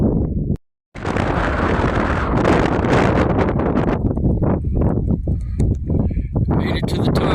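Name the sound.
strong wind on cinder cone volcano summit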